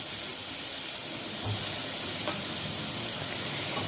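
Steady close sizzle of frying masala in a pan as sliced ridge gourd goes in, a constant hiss with a couple of faint stirring clicks and no voices.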